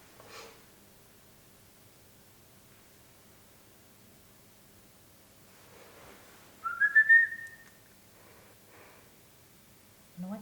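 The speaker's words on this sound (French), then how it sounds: "And what if we play a Kiwi song?" A recorded kiwi call played back to a kiwi egg: one short, shrill rising whistle stands out briefly against a faint, hissy, near-silent background.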